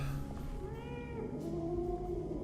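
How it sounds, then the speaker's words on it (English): A cat meows inside the horror game Alone in the Dark (2024), a few drawn-out, wavering cries heard fairly close over a steady low background hum, with no talking. "is there like an actual cat?"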